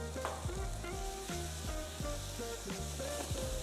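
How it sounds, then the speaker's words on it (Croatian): Onion, zucchini and bell peppers sizzle steadily in a pan, a continuous close frying hiss with periodic clinks and scrapes of stirring, no talking. "I sve zajedno ćemo kratko popržiti."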